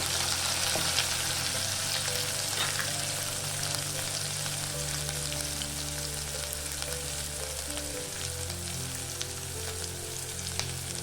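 Chopped ginger and green chilies sizzle in hot oil in a pan for jeera aloo. The steady, loud frying hiss runs continuously, with soft stirring scrapes close by and no talking.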